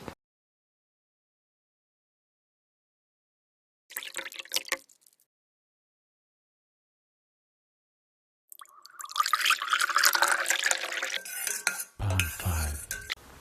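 Water is poured and stirred over rosemary leaves and fenugreek seeds in a small container, giving brief splashes, a pause, then a longer burst of trickling and clinking near at hand, with no talking.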